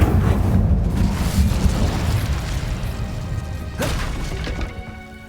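Incendio fire spell cast in Hogwarts Legacy, a loud whooshing burst followed by a sustained roaring rumble, with a second sharp flare partway through, no voices present.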